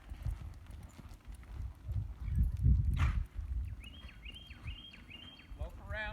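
A loping horse's hooves clip-clop in a steady rolling rhythm on arena ground during a cloverleaf riding exercise, close and fairly loud. A trainer's voice speaks briefly over the hoofbeats, and a few faint bird chirps follow near the end.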